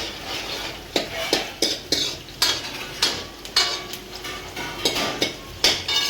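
Curry leaves go into hot oil with green chillies for a raw banana curry, then a spatula stirs them: a sizzle underneath with rhythmic scrapes and knocks against the pan, roughly one or two each second, close and fairly loud.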